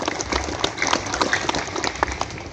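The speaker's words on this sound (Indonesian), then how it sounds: "Kita tepuk tangan dulu untuk Kota Kupang." A crowd at a Pancasila Day commemoration in Kota Kupang claps together in honor of the city, a short burst of dense, close applause with sharp individual claps standing out.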